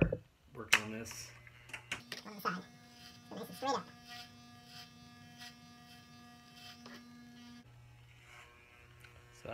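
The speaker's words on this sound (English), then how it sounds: "For the side, I like to use a 1/2-inch cut here, and so the number 4 on the razor." Electric hair clippers fitted with a number 4 half-inch guard hum steadily while cutting the hair on the sides of a man's head at home, a close buzzing tone with faint clicks and rustles.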